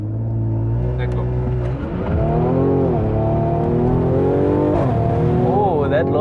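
A Mercedes C43 engine roars and climbs through the revs in a hard launch with all four wheels spinning, pitch rising steadily with a brief shift dip, loud and close.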